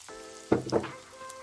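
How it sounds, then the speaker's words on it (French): Chopped onions drop into hot sunflower oil for Vietnamese banh cuon filling, and a short, sharp sizzle flares up close before settling to a faint crackle. "Attendez que l'huile chauffe, puis ajoutez les oignons ciselés"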